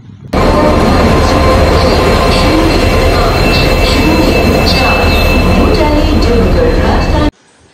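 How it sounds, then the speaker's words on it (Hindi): A train pulls into a railway station platform with a loud, continuous rumble of wheels and rolling carriages, faint squeals and clatter on top, heard close for about seven seconds. "देखिए, ट्रेन बोलते बोलते घुस भी गया है।"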